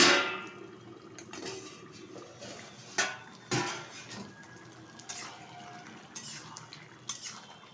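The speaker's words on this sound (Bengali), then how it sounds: "ঢাকনাটা তুলে দিচ্ছি" A lid is lifted off a cooking pot of pumpkin and hilsa fish-head curry, with sharp metallic clanks and clinks of metal cookware scattered among quieter kitchen rattles, close by and with no talking.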